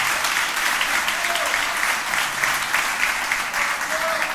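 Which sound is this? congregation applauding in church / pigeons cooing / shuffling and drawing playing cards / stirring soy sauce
congregation applauding in church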